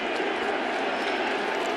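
Baseball crowd at an Orioles–Yankees game rising into a sustained MVP chant for Aaron Judge, a dense, steady wall of massed voices throughout with no single voice standing out.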